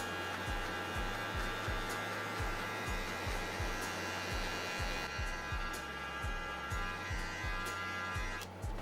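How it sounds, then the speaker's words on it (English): Electric hair clippers buzz steadily up close while blending a bald fade, the blade held on the scalp and worked in small C-shaped motions, with a repeating rhythmic pulse in the drone and no talking. "I use small C-like motions, like so, keeping the blade on the scalp the entire time"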